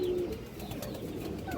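A pigeon at a bird market softly coos in a brief, low murmur, close by amid a busy background hum.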